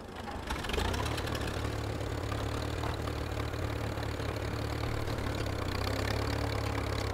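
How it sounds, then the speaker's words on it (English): Tractor engine idling in the Teardown video game, a steady low rumble that starts after a brief soft moment and runs loud and continuous throughout with no talk. "It's actually a tractor here."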